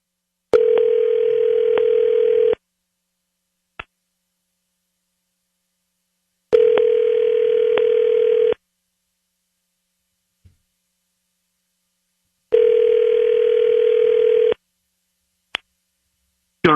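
Outgoing telephone call ringing, three long two-second ring tones evenly spaced about six seconds apart with near silence between them and a few faint clicks.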